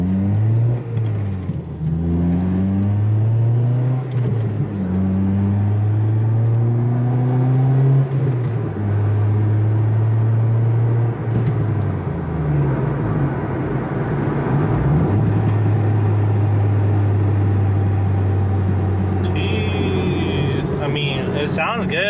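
A car with coilovers drives along, its engine droning steadily and rising and falling in pitch as it accelerates and shifts, with faint rattles from the suspension and a continuous road hum throughout.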